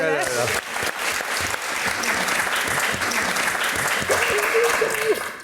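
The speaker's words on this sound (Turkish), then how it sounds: "Alkışlar gelsin." A television quiz-show studio audience applauds in a sustained, full wash of clapping, with a voice briefly audible near the start and end.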